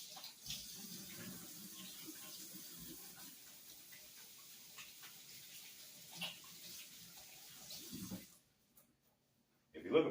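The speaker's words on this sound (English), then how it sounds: "Wash my hands right quick." Hands being washed under a running kitchen tap, a steady soft rush of water with splashing changes for about eight seconds before it cuts off, quiet and close.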